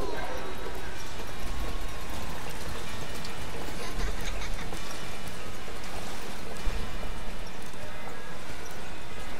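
Clip-clop of a mechanical metal horse in the video game Bioshock Infinite, a steady hoof-like patter set in a dense, noisy wash of game ambience, with no clear standout steps.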